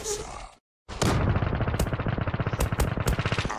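Rapid automatic P90 submachine gun fire in the online shooter Zula, a loud, dense burst of shots with a brief silent gap near the start, players talking over it.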